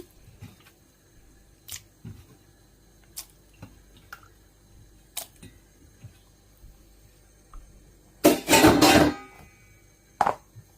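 Pieces of mutton or goat meat are dropped into a cooking pot, giving scattered soft clicks and knocks and then one dense, wet clatter lasting about a second, followed by a single sharp knock.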